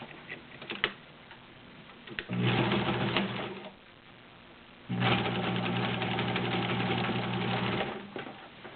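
A vintage Kenmore 1803 sewing machine zigzag-stitches through three layers of leather, running in two steady, fast-ticking bursts separated by a short pause, close and clear with no talk.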